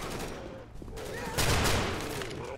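Burst-fire gunshots ring out in the zombie shooter game Left 4 Dead 2, several rapid cracks bunched into a loud burst partway through, layered over game ambience.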